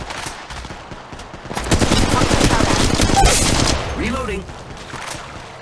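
Rapid automatic gunfire from the mobile battle royale game Apex Legends Mobile, a dense burst of loud shots that intensifies midway and runs for several seconds, with game voices and effects mixed in.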